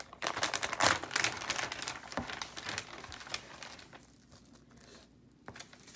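A small bag of foil crinkling and rustling up close, with dense crackly bursts at the start that thin out into quieter handling toward the end.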